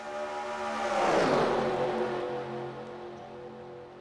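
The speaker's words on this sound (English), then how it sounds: "Listen to that roar of those race cars." A loud NASCAR engine roar swells as a car sweeps past at Talladega, peaking then fading into a steady drone of other engines in the distance.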